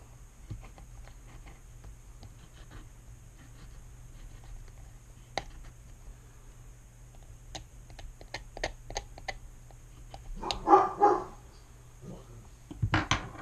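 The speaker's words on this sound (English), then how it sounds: "That's my dog Remy, in case anybody was curious" A dog named Remy barks briefly in the distance, a faint short burst amid quiet background ticks and light tapping.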